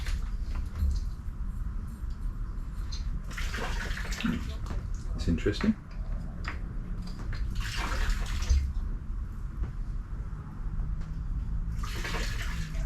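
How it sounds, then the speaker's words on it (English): Rainwater drains and splashes out of a dinghy in bursts, with trickling and gushing surges over a steady wash, while a person speaks briefly. "The dinghy ejecting water because it's been raining for the last God knows how long."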